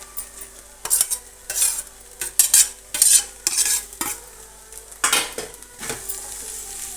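Onions, green chillies, tomato and grated cabbage sizzle in a pan while a spoon stirs them in bursts, scraping and clinking against the metal between quieter stretches of frying.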